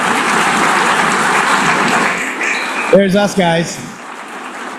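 Applause fills the UN General Assembly hall as a broad wash of clapping that fades after a few seconds, then nearby voices talk over the dying applause.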